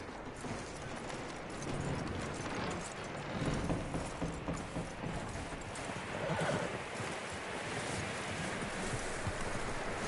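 Horse hooves clip-clop steadily in the Red Dead Redemption 2 video game, with occasional neighs and whinnies over rustling outdoor ambience and wind.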